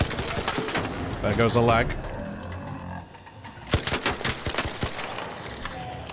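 Weapon fire in the video game ARC Raiders comes as a string of loud, sharp shots with a brief lull, then more sharp reports, while someone talks over the gunfire.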